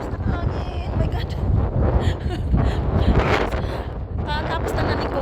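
Strong outdoor wind buffets the microphone in loud, continuous gusts throughout, with a person talking over the rushing noise.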